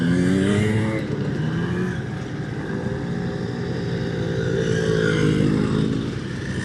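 Around twenty mopeds and small motorbikes, including a Velo Solex and a 90, revving and pulling away together at the start of a group run, a loud continuous blend of buzzing two-stroke engines rising and falling close by.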